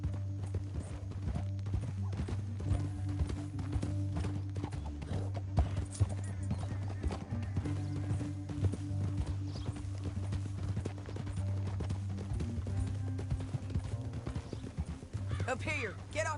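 Horse hooves clip-clop in Red Dead Redemption 2, a steady rhythmic trot running throughout beneath constant game music and voices, with a brief whinny near the end.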